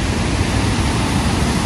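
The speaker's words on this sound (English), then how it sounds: "beautiful waterfall before I go" A waterfall roars with a loud, dense, unbroken rush close by, holding a steady level throughout.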